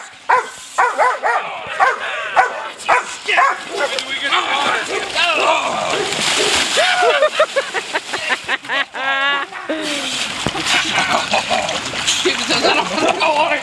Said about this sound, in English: Cold water plunge accepted.